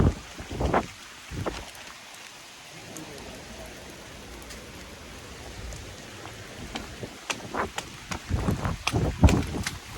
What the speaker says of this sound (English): It is freaking pouring.